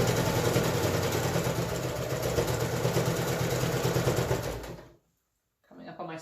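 Sewing machine stitching a fabric face mask in one straight run, a fast steady whirring buzz that continues for several seconds, then stops abruptly into silence before a faint sound resumes.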